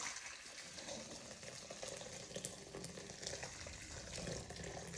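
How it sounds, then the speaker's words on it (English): Steady water pouring into a large bowl for a botanical facial steam, a continuous close splashing rush that holds evenly for several seconds with no talking. "So I'm going to take about half a cup here, like so, and then pour it into my container."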